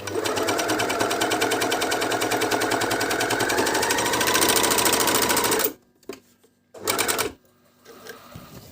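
A Medion MD19169 overlock sewing machine runs at speed in a rapid, even mechanical rattle for about six seconds, close and loud, then stops, with one short burst after it.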